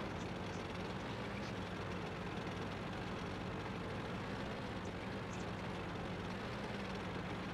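A Matilda tank in World of Tanks rumbles along slowly, its engine giving a low, steady drone with no change in pace, quiet and unbroken throughout with no voices.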